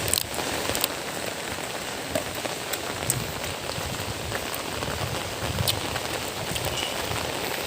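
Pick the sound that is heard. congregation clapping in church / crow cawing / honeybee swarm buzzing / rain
rain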